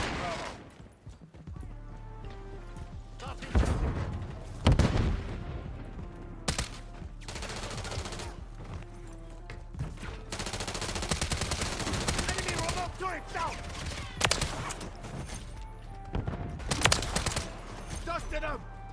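Bursts of automatic gunfire and single shots ring out in a shooting video game, loud, scattered volleys with pauses between them, while people talk over the action.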